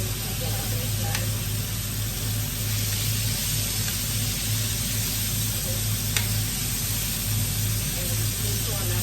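Fish frying in a pan, a steady dense sizzle with a constant low hum underneath, close and unbroken throughout.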